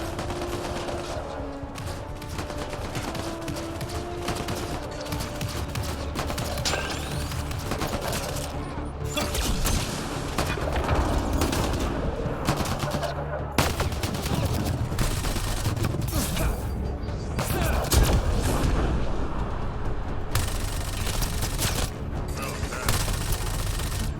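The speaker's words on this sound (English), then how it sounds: "There's a big battle happening. I don't know who's shooting at what" Gunfire rattles throughout a big video game battle, with dense, continuous volleys of rapid shots and bursts layered at varying distances, loud and unbroken from start to finish.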